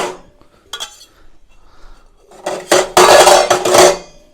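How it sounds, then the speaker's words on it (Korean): Two metal flue pipes from a camping pellet stove being slid inside the stove body, producing a few metallic clanks and scraping rattles, with a louder cluster of clattering near the end, close and alone. "연통 두 개를 이 안으로 넣고"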